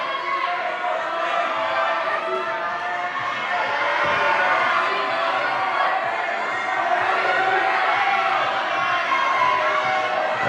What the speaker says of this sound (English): lots of energy and applause goes from the audience here